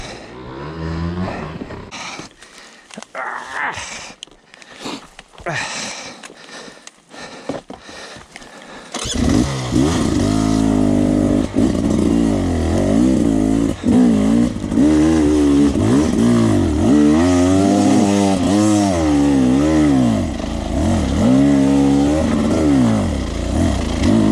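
A 2020 Beta 300RR Race Edition two-stroke dirt bike is ridden on a wooded track, first sputtering and popping at low revs, then a loud, continuous close-up engine drone that rises and falls as the throttle changes.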